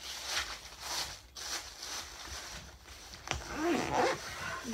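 A lunchbox being zipped shut, one short quiet zip near the end, in a calm room with no talking.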